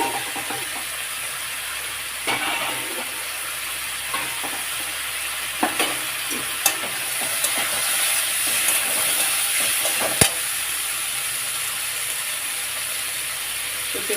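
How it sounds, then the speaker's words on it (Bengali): Potatoes and boiled papaya fry in a pan with ginger for a Bengali shukto, a steady close sizzle and hiss running throughout with occasional stirring clatters and a few sharp clicks. "এর মধ্যে আলু দিয়ে দিলাম, ভাজতে থাকবে।"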